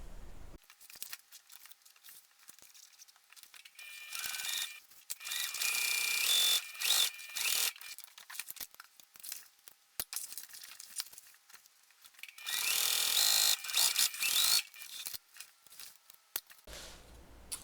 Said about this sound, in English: I'm going to take this to the machine, and I'm going to stitch both of these sides down at a 3/8 inch seam allowance.